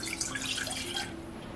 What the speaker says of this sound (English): Into our small pot, we're going to add our water